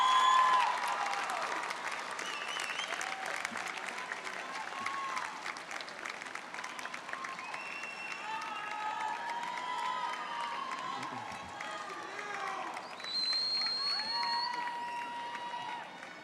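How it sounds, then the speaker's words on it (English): Graduates applauding the audience at a college convocation, sustained crowd clapping with scattered cheers and shouting voices mixed in, loud and continuous throughout. "giving an applause to the audience, those who got you here today"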